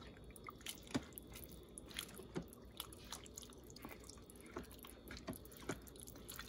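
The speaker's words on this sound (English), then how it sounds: "Let me just stir this up." Turkey chili with chili powder and beans being stirred in a pot gives soft, wet squelching and gentle spoon knocks at an irregular pace, quiet and close with no voices.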